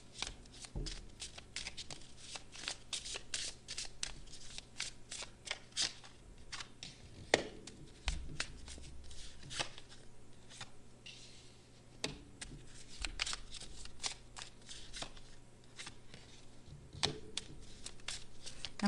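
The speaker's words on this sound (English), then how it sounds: "I'm going to lay all the cards out first" Tarot cards being shuffled and laid out one by one on a table during a pick-a-card reading, giving a steady run of close, crisp flicks and soft slaps with brief pauses between them, and no voices.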